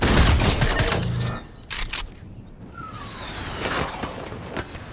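Video game gunfire, a rapid volley of loud cracking shots at the start, then scattered single shots, scrapes and whooshes with a rising whine in the middle.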